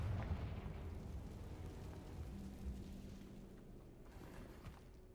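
A Confringo fire spell explodes in Hogwarts Legacy, giving a dull, rumbling blast that fades into low debris noise inside a cave with no voices.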